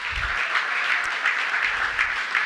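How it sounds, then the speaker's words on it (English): An audience at an Emancipation Day breakfast applauds, brief moderately loud clapping with a slightly pulsing rhythm, heard alone. "give him a round of applause"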